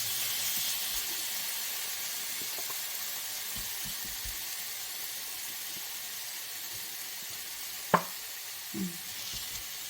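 Salmon grilling in a pan with no oil, a soft continuous hiss and sizzle that stays steady and faint, with a couple of brief knocks near the end and no talk.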